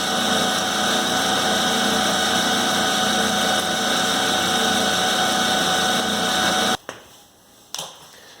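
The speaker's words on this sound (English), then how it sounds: "The speed has come up, and I know that the Reeves drive portion of this lathe works." A Clausing metal lathe runs on its Reeves variable speed drive, a loud steady motor hum with layered tonal whine, close up, cutting off abruptly near the end followed by a couple of brief clicks.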